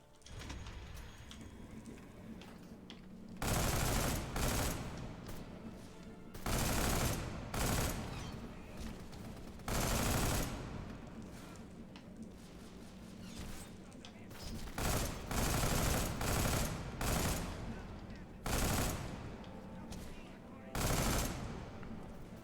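A big machine gun fires in the video game DeadFall Adventures, with loud sustained bursts of rapid automatic fire separated by short pauses, close and dominant over the game's background.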